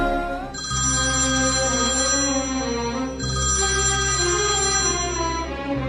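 A telephone ringtone plays loudly and steadily in two long bursts with a brief gap between them, and no voices are heard.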